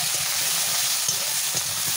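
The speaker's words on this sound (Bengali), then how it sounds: "দিয়ে দিচ্ছি ছোট কুচিয়ে রাখা আলু।" Small chopped potatoes with cumin powder, chilli and ginger-garlic paste frying in a pan, giving a steady close hiss of sizzling oil with faint soft stirring thuds underneath and no voices.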